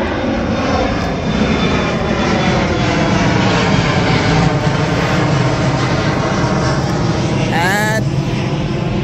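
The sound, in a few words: airplanes flying near Pearson airport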